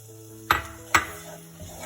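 Butter and flour cooking in a pan for a white sauce, with two sharp scraping stirs close by over a low, steady sizzle, and no talking.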